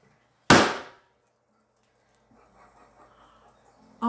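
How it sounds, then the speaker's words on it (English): A balloon filled with whipped cream bursts in one loud, sharp pop that decays within half a second. A quiet stretch follows, then faint low rustling and murmuring. "That was an explosion."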